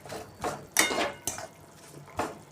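Jowar flour being stirred and roasted in oil in a pan, with a few scattered scrapes and knocks of a utensil against the metal, moderately close and with no talking.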